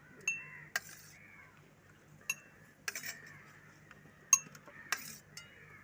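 A small spoon clinks against a glass jar while ginger paste and soaked seeds are stirred into a full jar soda, giving about seven sharp, bright metallic taps at irregular intervals over a faint steady background hum.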